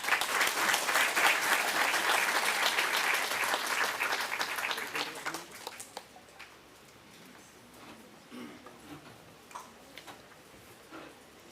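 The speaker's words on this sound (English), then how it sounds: "Let's welcome them with a huge round of applause." An audience at a chemistry department national workshop at NIT Rourkela applauds to welcome dignitaries to the dais, with dense clapping for about six seconds before it thins into a few scattered claps and quiet.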